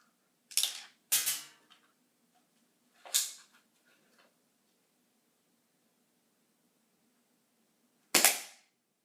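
A converted Nerf blaster fires airsoft shots at a 100-foot range: two sharp cracks in quick succession, a third a couple of seconds later, then a fourth after a long quiet gap, each loud and close.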